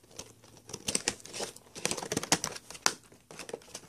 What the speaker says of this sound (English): So let's go ahead and open the box here.